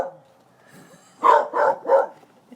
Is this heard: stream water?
no